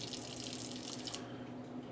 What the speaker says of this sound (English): we're just going to scrape some of that salt off and then give it a rinse in the sink